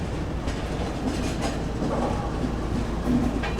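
A train hauled by a WDG 4G diesel locomotive rumbles into Moradabad station, a steady low rolling roar with faint wheel clatter and occasional squeaks, continuous and fairly close, no voices.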